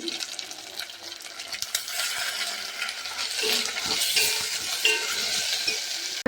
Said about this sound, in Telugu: పచ్చివాసన పోయే వరకు బాగా ఫ్రై చేసుకున్నామండి. ఇప్పుడు టమాటాలు వేసుకున్నామండి.